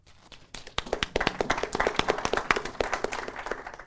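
Audience applauding after a panel talk on inequality and fiscal policy, a burst of many hands clapping that swells from a few scattered claps into steady, fairly close applause with no voices.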